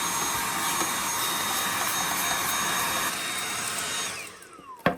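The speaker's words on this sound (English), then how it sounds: "we are going to vacuum this off and clean this one up as well" A vacuum cleaner whines loudly and steadily up close while dust is sucked off the disc drive cover of a PS5, then winds down in pitch and stops near the end.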